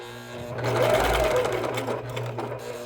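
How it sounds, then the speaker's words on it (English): A serger sewing machine runs steadily, stitching a band onto a sleeve as a three-quarter sleeve is altered into a banded short sleeve. The whir is close and continuous for the whole stretch, with no talking over it. "And as you're stitching, you're going to have to push this around the corner."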